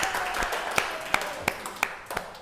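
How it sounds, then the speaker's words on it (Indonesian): Small group clapping in applause for a winner announcement, a brief patter of scattered claps with a few sharper distinct hand claps standing out over light background noise. "Tepuk tangan dulu dong."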